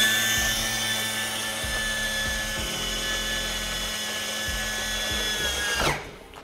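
An aircraft landing gear training rig in a maintenance school hangar extends back down. A loud, continuous high motor whine carries periodic low mechanical thumps, then spins down sharply near the end.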